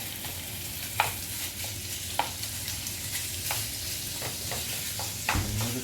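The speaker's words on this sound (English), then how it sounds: "Medium heat. And we're going to go in with our sausage there." Sausage sizzling in a pan over medium heat, a steady close frying hiss with occasional sharp pops and utensil clicks, a brief clatter near the end.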